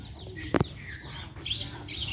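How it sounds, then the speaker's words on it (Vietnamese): A yellow dove calls close by among decoy parrots used for bird trapping, giving a short sharp note followed by softer chirps and tweets over a faint background rustle. "Ở đây cu vàng này nha các bạn, cu vàng."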